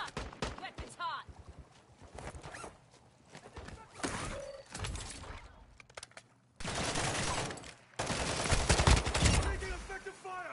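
Gunfire in a military shooter game, bursts of shots and bangs arriving in uneven clusters with a loud sustained volley near the end, over background game noise.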